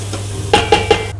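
Chopped carrots sizzle in a pan for a lentil stew, with a soft frying hiss and three quick metallic clinks of a utensil against the pan, close and clear with no voices.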